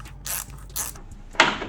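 Ratchet clicking as bolts come off the charge pipe of a Ford Fiesta ST180 during an intercooler upgrade, two short buzzing bursts then a sharper louder one, close up with no talk.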